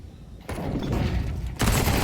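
Gunfire from Counter-Strike 2 at the IEM Melbourne 2025 esports event, with rounds sprayed through walls: two loud bursts of rapid shots, the second harsher and closer, over a steady rumble of game ambience.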